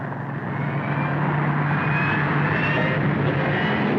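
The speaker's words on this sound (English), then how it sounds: "There's the plane." An airplane engine drones overhead in a 1938 film, a steady rumbling hum that swells slightly louder as it passes, with no voices over it.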